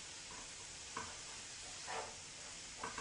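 Crab legs sautéing in butter in a pan: a faint, steady sizzle with a few brief louder bursts as the pieces are stirred or shifted.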